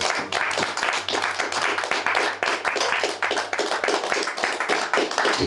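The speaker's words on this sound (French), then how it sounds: "Acclamez pour le Seigneur." A church congregation claps in praise to the Lord during a worship service. The clapping is loud, dense and rhythmic, and runs continuously with no speech over it.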